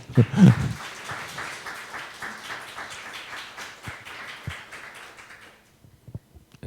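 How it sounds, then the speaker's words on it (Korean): A church congregation gives a round of applause during a Sunday sermon, a quick even patter of clapping that fades out after about five seconds, followed by a few scattered taps. "박수 한번 주시죠."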